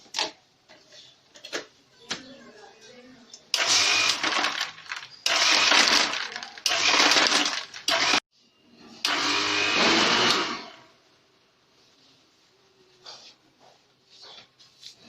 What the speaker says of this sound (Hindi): बर्फ डाल के हम उसको दोबारा ब्लेंड करेंगे।